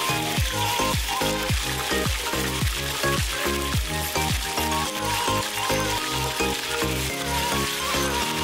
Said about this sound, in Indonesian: Menggoreng ayam ini harus semuanya terendam minyak panas ya